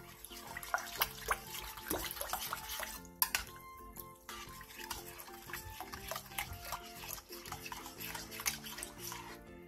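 A spoon stirs minced vegetables, a spoonful of minced garlic, kelp stock, soy sauce, sugar, plum syrup, oligosaccharide syrup and sesame seeds together in a bowl, making close, quiet sloshing and clinking scrapes with no speech.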